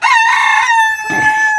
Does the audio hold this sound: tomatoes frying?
no